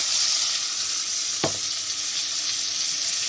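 Oil sizzling in a pan while frying almonds for Algerian mtewem, a steady close hiss throughout with one brief sharp crackle partway through.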